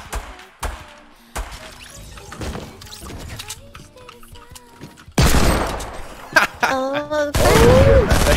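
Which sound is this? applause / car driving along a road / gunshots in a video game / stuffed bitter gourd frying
gunshots in a video game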